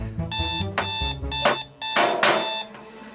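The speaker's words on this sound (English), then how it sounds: "You hit the snooze alarm." An alarm clock rings in a bedroom with a repeating electronic melody of beeping tones, steady and fairly loud throughout, with no voices.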